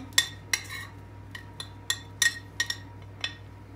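A utensil clinks and scrapes against a bowl while oat cookie dough is mixed, giving about a dozen sharp, irregular taps close by over a low steady hum, with no talk.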